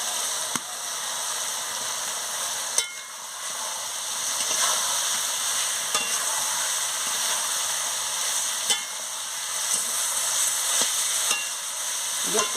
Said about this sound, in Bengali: এবারে মশলার সঙ্গে আমি ওলকপি আর সয়াবিন দিয়ে ভালো করে কষিয়ে নিচ্ছি।